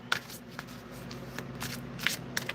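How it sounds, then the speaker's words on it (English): A deck of cards is shuffled up close, with rapid riffling bursts and soft flicks over a low background hum, no voice. "Let me shuffle this card again. This deck again."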